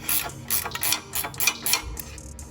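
A ratchet wrench loosening an exhaust bolt under a Mustang during a clutch upgrade, giving a close, loud run of rapid clicking bursts in uneven strokes.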